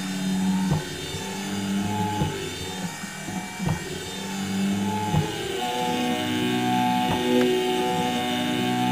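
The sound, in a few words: electric motor running at reduced RPM via speed control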